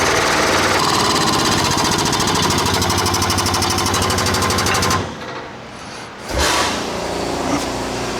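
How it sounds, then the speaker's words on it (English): Air compressor in a garage where a 1978 Ford LTD wagon sits on jack stands, running loud and steady with a dense mechanical chatter, then cutting out for about a second before starting again. "And there's the air compressor."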